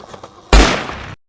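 A gunshot in a forest, one sudden loud crack that rings out for about half a second before cutting to silence, after faint quiet background sounds.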